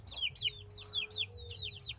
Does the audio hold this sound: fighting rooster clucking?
yes